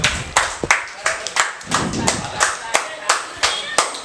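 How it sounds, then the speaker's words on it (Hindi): Students in a Class 10 maths classroom clap together in a steady rhythmic beat of about a dozen sharp, close, loud claps, with a voice talking in between. "ताली बजाओ इसके लिए।"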